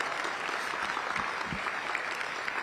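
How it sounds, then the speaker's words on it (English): Steady, dense applause from an audience at a city State of the City address held in a mall, filling the whole stretch at an even level. "give a round of applause to the mall leadership team for hosting us tonight"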